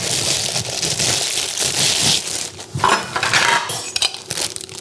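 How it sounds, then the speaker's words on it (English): Metal parts of a VIVOHOME stand mixer meat grinder attachment, with dies and cutter, clatter and clink as they are handled up close, a run of rattling knocks and scrapes without speech. "Here's our meat grinder."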